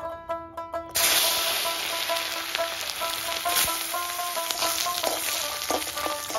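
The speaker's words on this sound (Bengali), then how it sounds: "নারকেলগুলো গরম তেলের মধ্যে দিয়ে দেবো।" Coconut pieces drop into hot mustard oil in a kadai and burst into loud, steady sizzling and crackling frying that continues close up, preceded by a brief quieter clatter.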